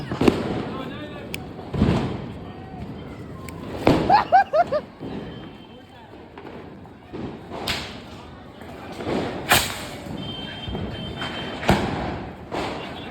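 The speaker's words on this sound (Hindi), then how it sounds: "अब देखना रॉकेट लेट के चलेगा।" Diwali fireworks, including rocket launches, go off outdoors in a string of sharp pops, whooshes and thuds, with a crackling burst near the middle and scattered bangs toward the end, while people talk and call out in between.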